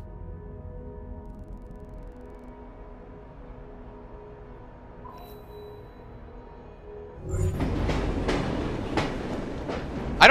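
A train rumbles in the video game Assassin's Creed Syndicate, a low steady drone that swells abruptly louder partway through, with rattling clatter and a brief sharp hit at the end.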